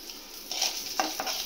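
A soft sizzle of Maggi noodles frying in a hot pan with a couple of scraping stirs, brief and close, without any talking.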